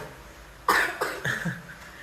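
A six-year-old child gives a short burst of two or three coughs at close range, followed by a faint breathy sound.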